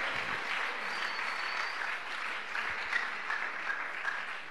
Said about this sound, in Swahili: Makofi kwa ajili yake ni funuo.